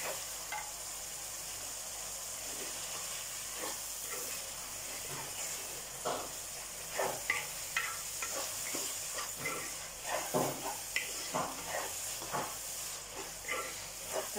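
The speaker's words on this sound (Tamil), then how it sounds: "வெங்காயம் தக்காளி தான் நல்லா பதங்கணும் உங்களுக்கு" Onion and tomato sautéing in a clay pot for a village-style catfish curry, a steady soft sizzle and hiss with irregular stirring scrapes and clicks that grow busier toward the end, heard alone.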